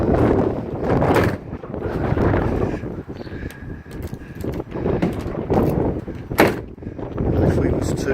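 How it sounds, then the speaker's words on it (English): A van door is unlocked with a key and then opened, using a deadlock with a slam plate. Close metallic clicks and clunks from the lock and door handle come through steady outdoor wind noise. "We use the key and the slam plate to open the door."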